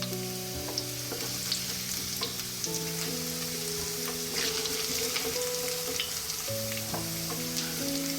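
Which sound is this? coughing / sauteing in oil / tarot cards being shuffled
sauteing in oil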